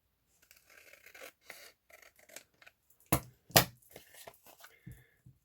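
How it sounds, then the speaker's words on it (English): Scissors snipping paper to trim a journal pocket, a run of short dry cuts and rustles with two louder sharp snips near the middle, close and alone without talk. "I'm just going to use my scissors."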